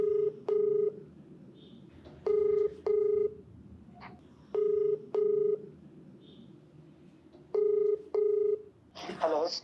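A telephone being dialed: bursts of keypad tones in paired beeps, repeated in short evenly spaced groups against a quiet room, ending in a brief ring or click as the call connects.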